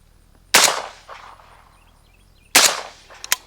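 Two sharp, loud rifle shots through a JMac Customs Banka suppressor a couple of seconds apart, each with a short echoing tail, then a faint metallic tap.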